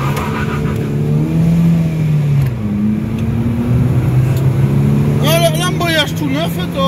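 An Opel Astra G coupé Bertone drives on a test run after a throttle body cleaning. Its engine hums and pulls through rising and falling gears, and voices talk over the cabin drone.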